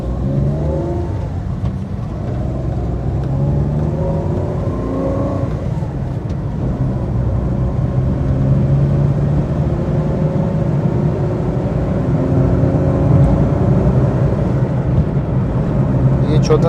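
Suzuki Cultus 1000cc manual car accelerating through its gears from the cabin, engine pitch rising and dropping with each shift, loud steady road and motor rumble, with a person talking over it.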